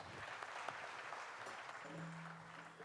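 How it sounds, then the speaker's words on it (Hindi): An audience at a tribute concert by a fine arts society applauds in a steady, distant wash of clapping, faint and continuous throughout. "आप जोरदार तालियों के साथ उनको ट्रिब्यूट देना"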